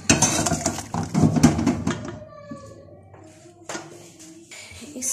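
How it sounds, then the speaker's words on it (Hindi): Metal pots and utensils clatter and clink loudly for about two seconds as beef ingredients are moved into a kadhai for an Eid beef fry, then the sound thins out to quieter, scattered scrapes. "चलो अब हम इस सबको कढ़ाई में शिफ्ट करेंगे"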